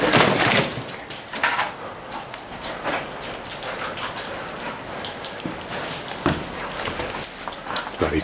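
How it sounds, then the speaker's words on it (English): A dog barks in agitation and whimpers with yelps and yips, the bursts irregular and fairly close throughout, amid some background commotion. "This is why the dog's going berserk."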